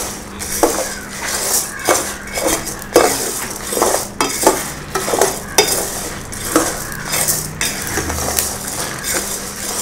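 Idli podi ingredients dry-roasting in a pan over a low flame, heard as repeated rhythmic scrapes and clinks of a spatula against metal over a faint dry crackle, close by and with no voices.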